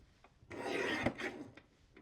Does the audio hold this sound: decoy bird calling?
no